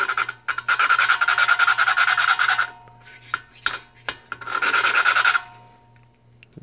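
Suction cup tool rubbing and twisting an engine valve during a Troy Bilt Horse tiller engine rebuild, two long close scraping bouts of gritty rubbing broken by short scuffs and taps over a low steady hum.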